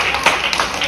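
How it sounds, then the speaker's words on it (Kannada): An audience at a church Christmas program celebration claps together, a steady patter of many hands with a few sharper slaps, moderately loud and close. "ಎಲ್ಲರೂ ಚಪ್ಪಾಳೆ"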